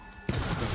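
A single loud gunshot in the video game Resident Evil 7, an abrupt blast that bursts out of a quiet background and rings on briefly.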